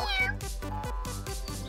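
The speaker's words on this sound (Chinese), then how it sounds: "谁在喵喵叫？" A cat meowing close and loud, with several repeated meows following in quick succession and filling the whole short moment.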